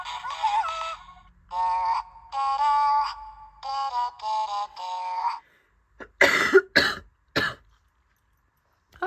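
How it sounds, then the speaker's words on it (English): A person coughs in three or four harsh, close bursts toward the end, after several seconds of bright, musical electronic chirping and warbling tones. "I apologise for the coughing."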